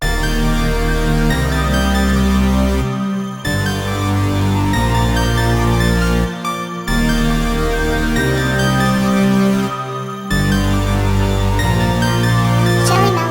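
Beat loop in FL Studio, pitched up two semitones: a loud, dense melodic loop with heavy bass that repeats in even cycles, punctuated by short gaps of near-silence.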